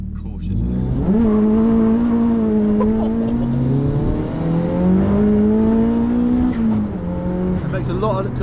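A Nissan S13 fitted with a Honda front end drives along, its engine droning steadily as the pitch climbs and dips through gear changes, with turbo compressor surge fluttering and people talking over it inside the car.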